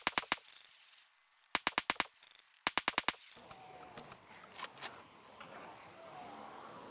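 A shotgun fires in the zombie survival game Project Zomboid. Three sharp, close bursts of rapid reports are cut by silence, followed by fainter scattered shots over a low ambient hiss.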